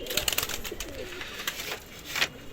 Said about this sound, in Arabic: بصوا الحمام بدأ يهوي.